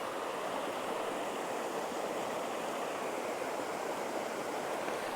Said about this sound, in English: Take a look at the creek real quick there.